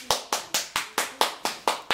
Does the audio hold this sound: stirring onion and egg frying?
no